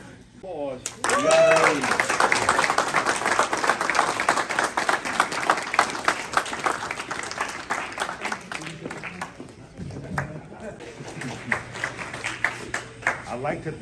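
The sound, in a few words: audience applause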